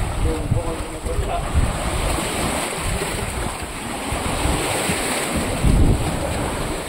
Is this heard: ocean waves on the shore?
yes